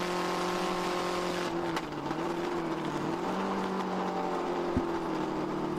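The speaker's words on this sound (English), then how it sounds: "It sounds like something's leaking. It could be a cracked header or something like that." An endurance race car engine at Virginia International Raceway, running with an exhaust leak such as a cracked header, drones steadily and loudly throughout with a sustained tonal whine and slight pitch shifts.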